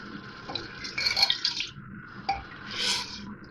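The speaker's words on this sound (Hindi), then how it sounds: "अब 1 कप ये पानी डाल रही हूँ मैं।" A cup of water pours into a pot of chana dal gosht curry with a soft, brief splashing trickle, alone and close.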